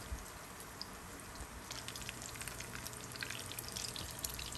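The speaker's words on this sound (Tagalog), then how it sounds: "i-fry lang po natin yan hanggang maging uh, golden brown po" Tortang alamang, a shrimp paste omelette, frying in a pan with a steady, faint sizzle and crackle of oil, a quiet continuous hiss with small pops, no talking.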